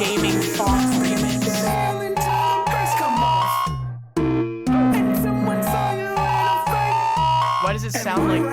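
Boss battle music from a Lisa fan game, an aggressive funk-style track with a steady pounding bass beat and bright synth melodies, loud and continuous with a brief dropout midway.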